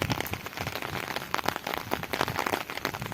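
Heavy downpour of rain pouring over cotton fields, a dense steady hiss with scattered louder splashes throughout, no voices.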